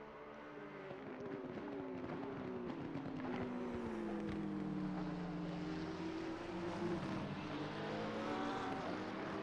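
Porsche race car at Kyalami in a PC racing game, a steady droning engine with shifting tonal pitch sweeps held loud and continuous throughout, no talk over it.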